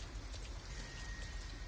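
Steady rain falling in Detroit: Become Human, a dense, even patter of drops on surfaces that fills the whole moment at low volume with no voices over it.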